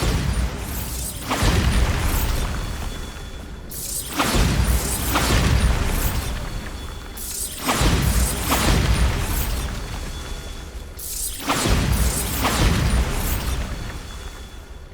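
Repeated Bombarda spell blasts in the game Hogwarts Legacy, four loud booming explosions at regular intervals, each a heavy deep burst that rumbles and decays before the next hits, with no talking.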